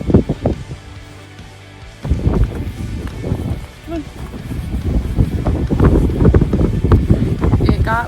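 Wind gusts suddenly as a snowstorm moves in over Carson City, Nevada, the buffeting roar starting quieter and building to loud, uneven bursts, while people talk over it.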